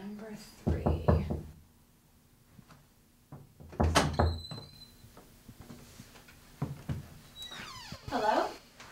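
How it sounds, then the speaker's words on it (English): Someone knocks on a door in a few separate bursts of solid thuds, with voice-like sounds between and after them. "when I knocked, the door opened"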